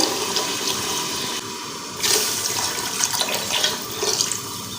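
About one and a half glasses of water are poured into roasted masoor and moong lentils in a pressure cooker. The pour is a steady, close splashing gush that continues for several seconds and swells partway through.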